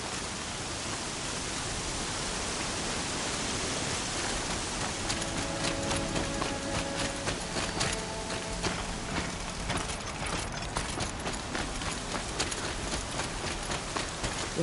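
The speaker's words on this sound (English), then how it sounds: "Air's heavy with rain." Steady rain in the video game Horizon Zero Dawn hisses loudly and evenly, with scattered drops tapping nearby surfaces in a quick irregular patter.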